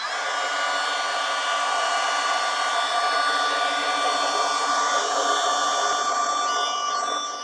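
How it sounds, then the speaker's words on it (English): A heat gun shrinking tubing onto connector cables for a LiFePO4 battery, a loud, steady blowing whine that holds constant throughout without pause or voices. "First we gotta heat shrink some connector cables, so we're gonna do that now."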